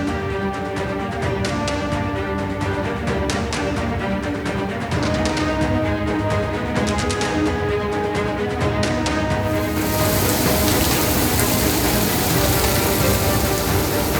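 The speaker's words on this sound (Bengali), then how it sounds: "দফায় দফায় বজ্র বিদ্যুৎ সঙ্গে সহ বৃষ্টি এবং সঙ্গে ঝোড়ো হাওয়া" Heavy, steady rain pours down in a city during a thunderstorm with gusty wind, a dense continuous hiss on surfaces that swells louder toward the end, with no voices.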